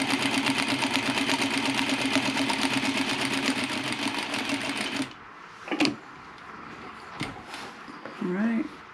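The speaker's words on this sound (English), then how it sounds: "Right, now I'm going to sew down this line again." A sewing machine stitches a clutch bag seam in a rapid, loud, continuous rattle for about five seconds, then stops, followed by a few soft handling knocks.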